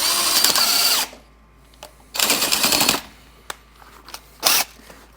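Three bursts of high-pitched power drill whine with a keyless chuck, each about a second long, separated by quiet gaps with faint clicks and handling noises, during chassis work on a Dodge W200 truck.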